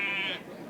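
A goat bleats once at a busy rural market day, a short, wavering, nasal cry that fades into soft background noise.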